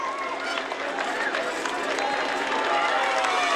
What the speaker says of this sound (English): Huge crowd on this climb of the Côte de Lausanne for the peloton, Paul